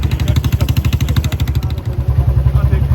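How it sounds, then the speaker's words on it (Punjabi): A motorcycle ridden through crowded fair traffic, its engine loud and close with a rapid, pulsing beat that stays steady for a few seconds before easing slightly. "ਮੋਟਰਸਾਈਕਲ ਤੇ ਜਾ ਰਹੇ ਆ"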